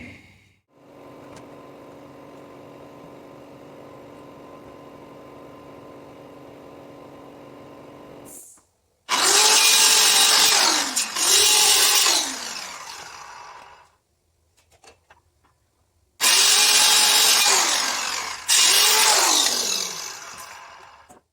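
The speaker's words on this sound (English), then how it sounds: "then I'll cut out there from the right side with a steel saw so that we can just slide the wall over" Saw cutting a notch into a wooden wall bottom plate while framing an interior shop wall: a steady machine hum first, then two loud bursts of harsh cutting noise separated by a pause, each rising and falling in pitch.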